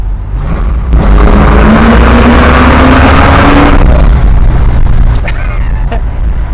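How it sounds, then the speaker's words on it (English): A custom hand-built 1981 Pontiac Firebird hot rod engine revs hard on a downshift into second at about half throttle, a loud, close, rising roar holding for several seconds before dropping away. "That was just a downshift into a second, and probably around half throttle, and it sounds amazing"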